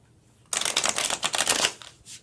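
Tarot cards are shuffled by hand in a quick burst of crisp riffling flutters lasting about a second, close and fairly loud, then one brief soft rustle; no one speaks.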